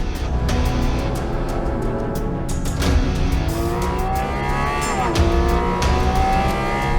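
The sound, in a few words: mid-engine sports car driving fast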